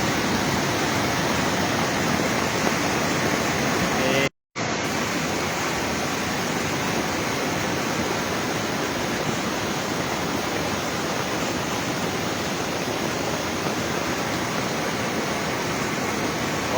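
A steady, dense roar of heavy monsoon rain and rushing mountain streams in the hills, unbroken and loud throughout, with one brief dropout near the start.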